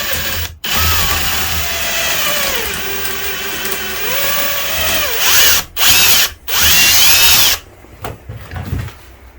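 A power drill grinds into wood for a ferro rod handle with an oversized bit, its motor pitch sagging and rising under load, then stopping and restarting in a few quick bursts.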